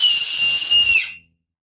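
A sharp, piercing whistle is blown through the rim of an acorn cap. It is loud and steady for about a second, then fades out quickly.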